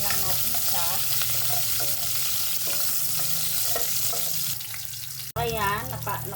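Mung bean mixture for ginataang mungo is stirred in a frying pan over a loud, constant sizzle, with scraping strokes of the spoon and a sudden knock near the end. A voice is faintly present.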